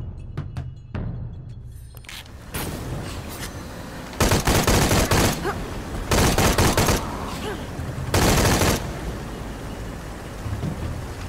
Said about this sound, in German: Irgendwo von dort scheinen weitere Schüsse zu kommen.